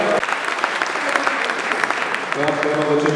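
An audience at a regional sports gala gives sustained applause, a broad crackle of many hands clapping throughout, with a voice rising over it near the end.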